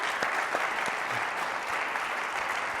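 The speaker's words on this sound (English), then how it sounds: "Can we have one more round of applause for my wonderful guests?" Studio audience applauding the guests at the end of a live Black music show, a dense, steady clapping that fills the room from start to finish.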